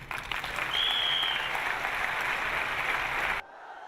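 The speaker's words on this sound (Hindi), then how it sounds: "हमारी वाइफ के लिए जोरदार तालियां हो" Enthusiastic applause from an audience at a company awards event, a dense wash of clapping lasting a few seconds and cutting off abruptly.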